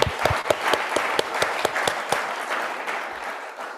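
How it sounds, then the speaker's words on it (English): Workshop audience at a climate justice summer school in Nairobi breaks into applause, a dense burst of clapping with a few sharp, close claps standing out, gradually thinning toward the end. "and the Rufaron deserves a better clap."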